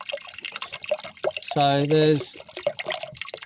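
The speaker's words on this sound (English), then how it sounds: "800 milliliters of water going in here." Water pours into a fast boil camping kettle, 800 millilitres going in with a rising, filling tone that lasts under a second, set between bits of nearby talk.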